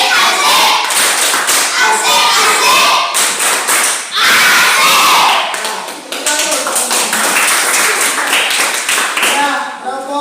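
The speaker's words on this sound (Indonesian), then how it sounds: "kita berikan aplaus tepuk asik buat kelompok 2" Schoolchildren in a classroom give a student group a rhythmic patterned clap, loud and close, with bursts of unison claps and thumps, brief pauses between rounds, and voices chanting along.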